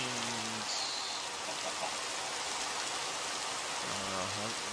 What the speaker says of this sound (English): Looks like when it rains,